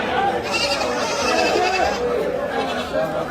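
Goats bleating at a busy village livestock market, overlapping calls rising over a constant murmur of crowd chatter and nearby talk.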